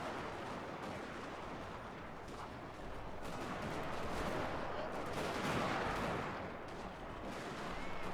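Continuous musket volleys from kneeling line infantry in a Total War: Shogun 2 Fall of the Samurai battle, a dense, sustained crackle of massed gunfire rolling and swelling without a break.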